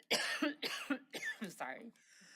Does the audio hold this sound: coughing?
yes